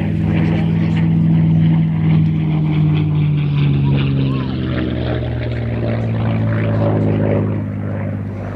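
P-51 Mustang propeller fighter passes at the Midlands Air Festival, its loud droning engine note sliding lower as it flies by, with a voice faintly underneath.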